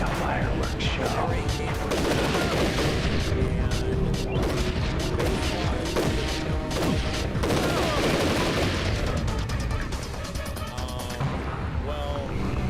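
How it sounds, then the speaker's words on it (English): A fireworks show crackles with rapid, dense bursts of popping and booming that sound like gunfire, continuous and loud, with a voice talking over it. "Sounds like a fireworks show."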